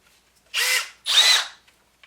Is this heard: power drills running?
yes